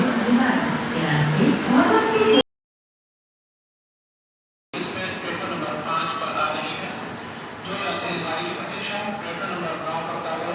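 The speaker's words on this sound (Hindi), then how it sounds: "सामने बांद्रा टर्मिनस से चलकर हरिद्वार जाने वाली ट्रेन जो है एक्सप्रेस आ गई है, अराइवल हो गया है उसका" Bandra Terminus–Haridwar express train arriving at Delhi station, a steady rumble of rail cars on track with station ambience, broken by a brief gap, with people talking throughout.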